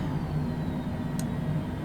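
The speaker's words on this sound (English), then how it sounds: "we'll go ahead and start shutting down the engines. There goes the left side" Jet engines of an airliner in Microsoft Flight Simulator 2020 being shut down, a steady, loud whirring drone with a low hum that holds even throughout, with a brief high hiss near the end.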